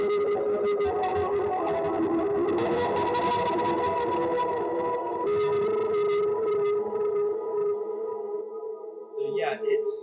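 An electric guitar on its neck pickup runs through an overdriven ambient wah pedal, producing thick sustained distorted notes with swelling, echoing sweeps that thin out and fade near the end.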